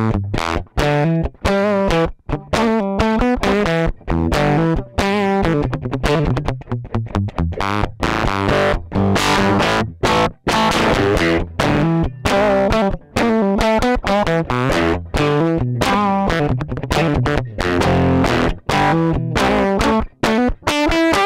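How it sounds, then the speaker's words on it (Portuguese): An electric guitar plugged straight into a Cachalote Console preamp with 70s mixing-console saturation plays a loud, gritty distorted riff of choppy chords and notes with short pauses, no amp simulation and no talk. "Aquela saturação de mesa da década de 70, quando os caras não tinham pedal de distorção"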